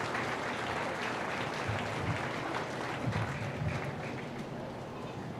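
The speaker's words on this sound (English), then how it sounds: "Let's give a round of applause to all these exhibitors in this class." A crowd applauds exhibitors after a junior swine show class at the Buffalo County Fair, with steady, dense clapping that holds for several seconds at a fairly even level.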